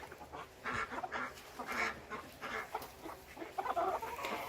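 Chickens cluck in a backyard chicken yard, a series of soft, irregular clucks and low chatter from several birds close by, fairly quiet overall with no talking.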